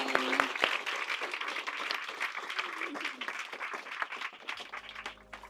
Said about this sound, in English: let's give an applause for Glynnis